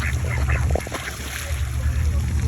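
Ducks quacking nearby in a short cluster of nasal calls, heard against steady low outdoor rumble.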